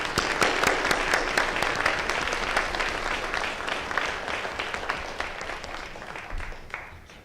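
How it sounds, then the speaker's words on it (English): A symposium audience claps for two panelists at a breast cancer conference, loud sustained applause from a full room that slowly thins toward the end. "So if you can give a round of applause for both of our panelists."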